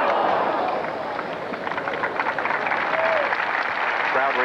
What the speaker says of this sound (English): Crowd reacting to a field result.